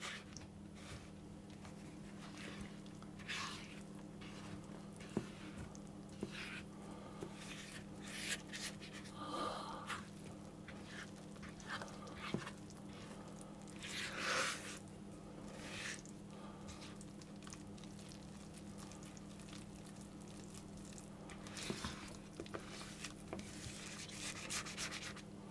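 Muffin batter being stirred in a bowl makes soft, faint scraping and squishing strokes over a low steady hum, with no talking.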